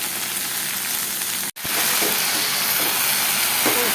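Tender water spinach (kalmi shak) fries in a hot pan with a loud, steady sizzle and hiss, cut by one brief break before the frying noise resumes at full strength.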